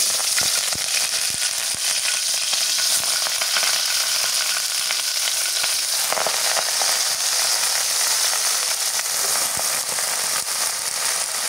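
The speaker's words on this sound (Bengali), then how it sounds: "তেলের মধ্যে শাকটা দিয়ে দিই" Leafy greens frying in hot oil, a loud, steady sizzle with sharp crackles and pops throughout.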